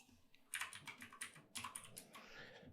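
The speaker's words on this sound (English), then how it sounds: "So let's just type it here." Rapid keystrokes on a computer keyboard come in two close bursts of clicky taps, nearby and alone with no voice over them.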